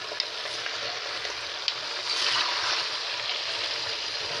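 Potatoes and onions frying in oil, a constant close sizzle that swells as they are stirred, with a couple of light utensil taps.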